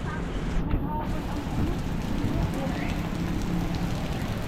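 Dense, steady rain roars continuously, close and loud, a wash of noise with no breaks and no talking, in Mandaluyong.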